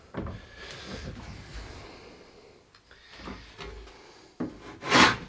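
Hand saw rasping through a piece of ash wood, cutting in from the opposite side of an earlier kerf: irregular rubbing strokes throughout, quieter in the middle, ending with a louder, sharper burst near the close.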